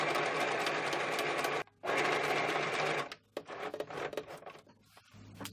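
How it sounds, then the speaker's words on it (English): A sewing machine stitches a running stitch through a paper collage, buzzing loudly and steadily in close bursts, with a brief pause, then shorter, choppier runs toward the end. "now I'm going to move up and just put a running stitch on the main focal point, just very close to the pink piece"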